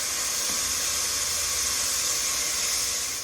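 Beef stew meat chunks sizzling and browning in a hot pan, producing a steady, even hiss of frying at moderate level with no voices.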